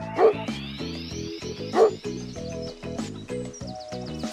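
A cartoon dog gives two loud barks with yips and whimpers between them, set over bright, playful music in a children's learning show.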